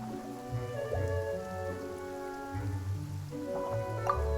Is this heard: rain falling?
yes